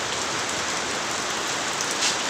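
Steady heavy rain pours down during a storm over a house backyard, a dense continuous hiss of drops hitting surfaces close by, with no voices.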